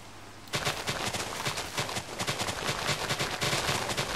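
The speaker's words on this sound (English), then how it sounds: "the rain's really messing with my frame right there" Minecraft rain sets in after half a second as a loud, dense, crackling patter that stays steady and unbroken to the end, with no voices over it.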